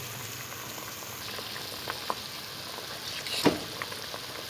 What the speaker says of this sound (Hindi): ये देखिए ये बॉयल होने लग गया है।